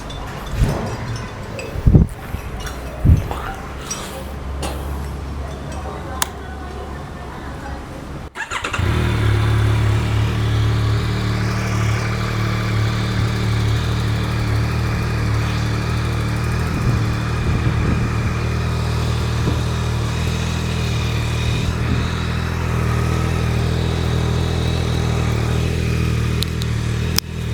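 A few clicks and a brief starter whir, then a motorcycle with its stock exhaust cold-starts and settles into a steady, loud idle close by.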